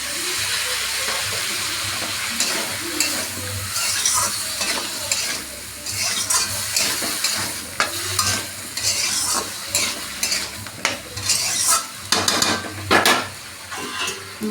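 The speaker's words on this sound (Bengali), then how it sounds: "চাপা ঢাকা দিয়ে একটু মশলাটা ভালো করে ভেজে নেবো" Masala fries in a pan with soybean chunks and potato for a curry, a continuous loud sizzle under frequent spatula scrapes and clinks that grow busier toward the end.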